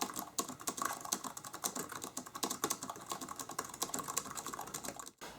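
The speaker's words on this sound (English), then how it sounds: "And now a test of what the keyboard sounds like, just typing something out very quickly." Fast, steady typing on a Jelly Comb K015 wireless keyboard: a dense run of quick, crisp key clicks, close and fairly quiet, with a brief pause near the end and no voices.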